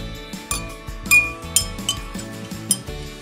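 A tool stirring mica powder into resin inside a small container gives a rhythmic series of close, bright clinks and taps against the sides, steady and fairly loud, with no one talking.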